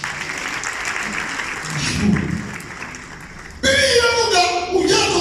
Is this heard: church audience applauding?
yes